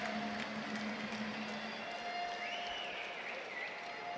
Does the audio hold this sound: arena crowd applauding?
yes